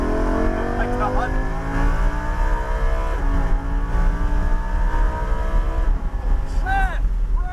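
A car engine accelerating as the driver rolls on the throttle on a cone-marked driving course, a loud steady engine drone climbing in pitch, with a voice briefly heard over it.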